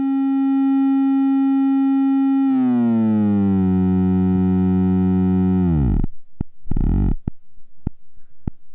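Ladik VCO4 oscillator's triangle wave under linear FM modulation: a steady droning tone that shifts into a wobbling, descending modulated drone around the midpoint, then breaks into rhythmic stuttering pulses near the end, alone without voices.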